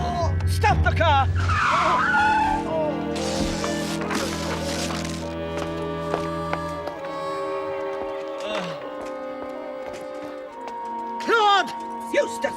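Car tires skidding and squealing to a stop amid a dramatic scene, loud and close, layered with music and overlapping raised voices.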